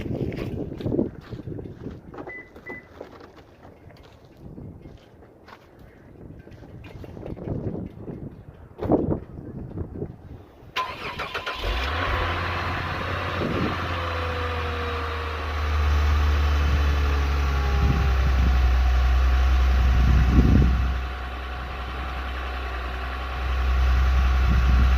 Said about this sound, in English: I'm just going to be doing a cold start of my 2014 Lexus is350